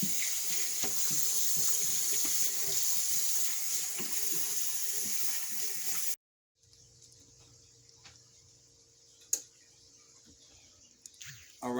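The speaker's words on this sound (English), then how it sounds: "I'm going to wash out my wife's sink before I get killed" Tap water runs steadily into a sink being washed out for about six seconds, close and loud, then cuts off, leaving a quiet room hum with a faint knock.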